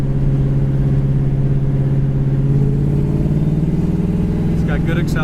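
A 1974 Pontiac GTO accelerates with a steady, loud engine drone that rises gradually in pitch over several seconds, heard from inside the car, with no talking.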